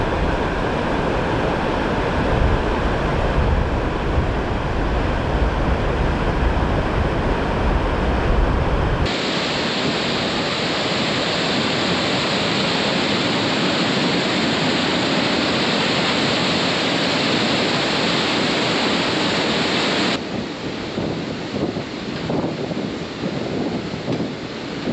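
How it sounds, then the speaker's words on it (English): Loud, steady roar of a river swollen by two days of constant heavy rain at a major crossing on a hike in northern Sweden, heard close by alone, with gusting wind mixed in. "we came to a major river crossing, and the impact of 2 days of constant heavy rain was very clear to see"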